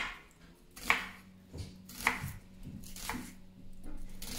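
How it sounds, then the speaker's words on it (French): A knife slices onions into thin strips on a board with about five crisp, evenly spaced chops, close and clear with no talk. "je vais détailler ici mes oignons en lamelles"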